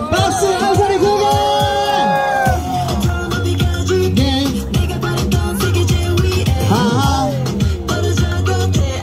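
A street crowd at a Hongdae busking dance show breaks into loud cheering, whoops and clapping at the end of a performance, with dance music still pounding underneath and a performer talking over it.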